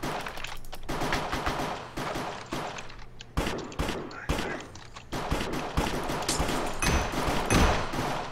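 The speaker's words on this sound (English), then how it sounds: "This guy has a special gun." Rapid bursts of gunfire from a special gun in the video game Minecraft, repeated volleys with brief gaps, loud and close, with voices talking in between.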